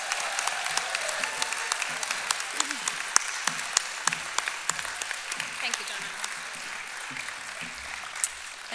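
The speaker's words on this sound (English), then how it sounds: "let's have a big cheer for all of our graduates today" An audience applauds graduates at a nursing diploma graduation ceremony in South Brisbane, a steady patter of many hands with a few sharper nearby claps and light cheering, moderately loud throughout.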